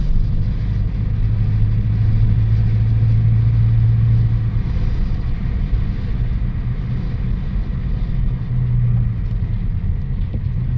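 Peugeot 406 coupé youngtimer with a 2-litre 16-valve engine heard from inside while driving, a loud steady low rumble and road drone that hold even with only slight swells.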